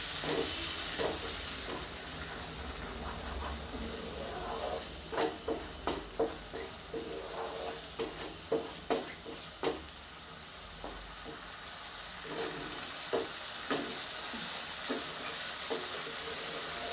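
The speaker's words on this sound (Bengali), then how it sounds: "এটাও 2 মিনিট কষিয়ে নিব, কষিয়ে দেখাচ্ছি।" Cauliflower and potato curry with cashew paste sautéing in a pan, a continuous sizzle broken by a run of sharp spatula scrapes and taps in the middle, no talking.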